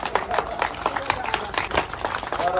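An audience at a drivers' welfare association gathering in Mewat, Haryana, claps together in dense, steady applause, close and lively, the overlapping hand claps forming a continuous patter.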